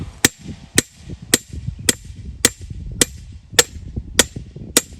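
A metal T-post being driven into the ground for a bean trellis, nine sharp evenly spaced metallic clangs about half a second apart, loud and close with no talking.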